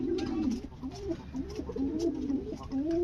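Pigeons coo in soft, repeated rolling calls close by, several overlapping in a steady rhythm.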